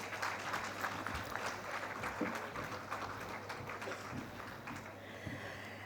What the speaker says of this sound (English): Can I have a round of applause for this session